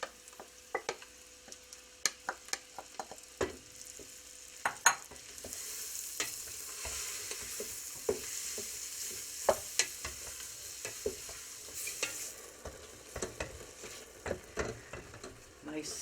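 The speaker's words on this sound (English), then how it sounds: "So I'm going to saute the mushrooms to get a nice little surface on them." Thinly sliced baby portobello mushrooms sauté in a pan with a soft, quiet sizzle, punctuated by sharp utensil clicks and scrapes from stirring, close by with no talking.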